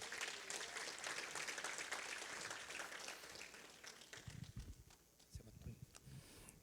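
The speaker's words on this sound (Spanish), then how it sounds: "vamos a recibir al hermano Luis con un fuerte aplauso" A church congregation gives a loud burst of applause to welcome a brother, a dense steady clatter that fades after a few seconds into scattered claps, shuffling and murmuring.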